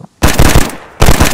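Gunshots in the video game DayZ: two loud, close bursts of rapid fire, each a quick cluster of cracks separated by a short pause.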